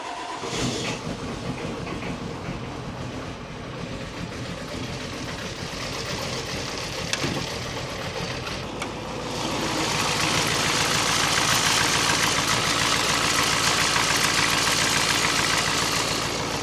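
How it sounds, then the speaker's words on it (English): An old Ford diesel dump truck engine idles with a steady, loud rumble, then revs up near the end and holds at a higher, rougher roar. "I love how you can step on the pedal and it'll just rev right up."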